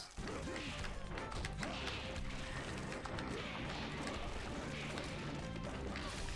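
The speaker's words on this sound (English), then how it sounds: "Smashing objects." Objects smashed in the video game One Finger Death Punch, a dense, continuous run of crashing, thwacking hits and clatter that stays loud and busy throughout, with no talking.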